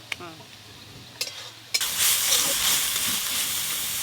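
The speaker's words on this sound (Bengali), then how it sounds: "এইভাবে বেশ কিছুক্ষণ ধরে নেড়ে নেড়ে পুরো জলটা শুকনো করে নেব" After a few sharp clinks at the start, a paste of onion, ginger and garlic hits the hot pan with a sudden loud sizzle that carries on steadily while it is stirred, with faint speech underneath.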